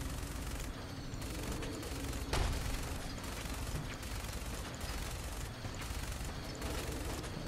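Fallout 4 burst-fire weapon shots rattle in dense, repeated rapid bursts with brief gaps between them, loud and continuous with no voices.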